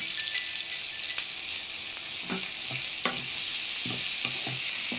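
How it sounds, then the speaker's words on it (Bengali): Sliced onions fry in hot oil in a pan, giving a steady, loud, continuous sizzle with occasional soft crackles and stirring clicks, close by and with no talking. "এখন আমি ওই তেলে পেঁয়াজ দিয়ে দিলাম"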